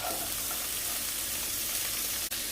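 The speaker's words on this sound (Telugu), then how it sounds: "ఒకసారి ముక్కలన్నీ అండి పక్కకు అనుకొని ఇప్పుడు ఉల్లిపాయలు వేస్తానండి" Okra pieces fry in a pan as onions go in, a dense steady sizzle throughout with a faint brief click near the end and no talking.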